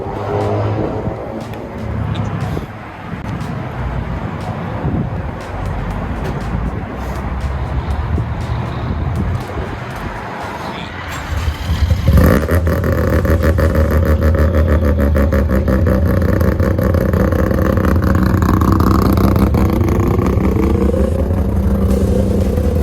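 A loud Mazda RX-7 with a rotary engine drives on American roads, its buzzing engine and exhaust droning steadily and growing heavier and more constant partway through, with no talk.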